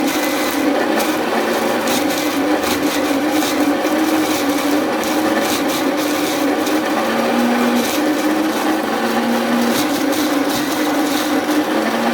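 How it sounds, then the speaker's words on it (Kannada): Continuous loud whirring of a mixer grinder grinding masala to a fine paste for egg sambar, running steadily throughout, with a gritty rattling texture from its contents and no voices. "ಅದನ್ನು ಇವಾಗ ಹಾಕಿ ಚೆನ್ನಾಗಿ ನುಣ್ಣಗಾಗೋವರೆಗೂ ರುಬ್ಕೊಳ್ತಾ ಇದ್ದೀನಿ"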